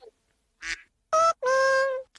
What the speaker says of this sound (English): I heard the duck quack first.